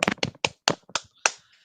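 A few quick, close, sharp hand claps in an uneven rhythm, about seven crisp slaps with short gaps between them, with no voices.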